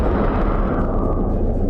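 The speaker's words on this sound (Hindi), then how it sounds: "वॉर जोन में गरजी यूक्रेन की तोप। सेल्फ प्रोपेल्ड गन से हमला किया गया।" A Ukrainian self-propelled gun fires in a war zone, a single loud, close artillery blast whose heavy boom and rumble fill the entire short moment.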